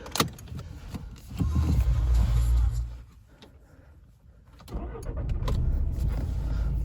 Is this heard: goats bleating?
no